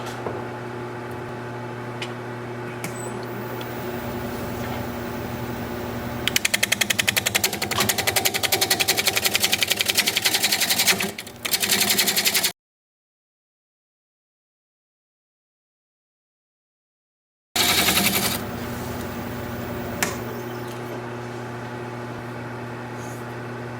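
Carbide tool cutting a knotty pine bowl blank on a wood lathe, a steady motor hum broken by two loud, rapid chattering bursts of cutting, a silent gap, then the hum and a brief cut resuming.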